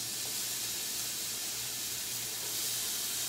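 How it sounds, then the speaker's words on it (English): Commercial bacon sizzles in a hot pan with a continuous, even hiss and crackle, alone and without pauses. "look at that, sizzling right away"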